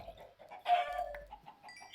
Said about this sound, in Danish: Hej kylling.